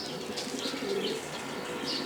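Pigeons burst into flight after release, wings flapping in a quick, soft flurry with a faint coo among them, fairly quiet and close.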